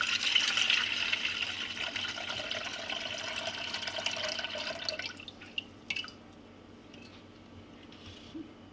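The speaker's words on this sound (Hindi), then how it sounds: "सबसे पहले हम दूध डालेंगे।" Milk poured for a peda lassi made with yogurt and crushed ice, a steady liquid rush for about five seconds that then trails off into faint drips and small clinks, with no talking.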